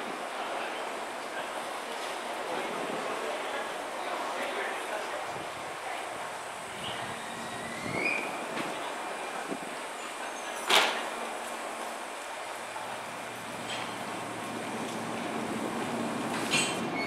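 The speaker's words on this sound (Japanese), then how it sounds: "電車が発車します。" Train pulling out of a Japanese station, a low rolling rumble with door and rail sounds, a sharp squeal or clank midway, and announcement-style speech over it.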